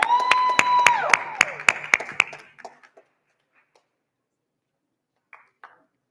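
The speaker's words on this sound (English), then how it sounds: "one more round of applause for Yamini." A conference audience at a tech demo day claps, a burst of applause with distinct sharp hand claps that thins out after a couple of seconds, leaving a few scattered claps in near silence.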